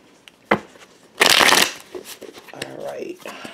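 A deck of tarot cards is riffled in a quick, loud burst, with lighter card handling before and after while a voice talks.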